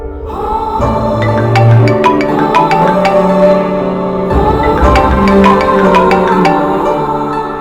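A loud melodic phone ringtone plays, its tune repeating twice in a steady pattern.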